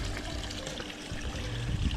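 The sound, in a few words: water flowing over rocks in DIY stream water feature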